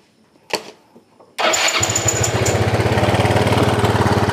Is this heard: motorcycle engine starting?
yes